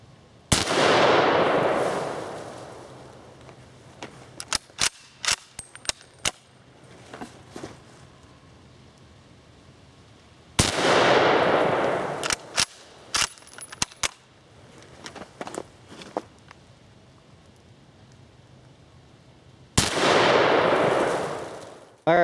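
Three loud, sharp Mosin Nagant rifle shots fired outdoors into a layered barrier target, spaced roughly ten seconds apart, each followed by a long rolling echo and scattered faint clicks of handling between shots.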